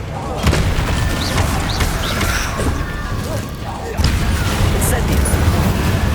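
Repulso and Incendio spells cast during combat in the Hogwarts Legacy video game, with heavy booming blasts and crackling impacts layered over dense game noise, one strong hit near the start and another burst around the middle.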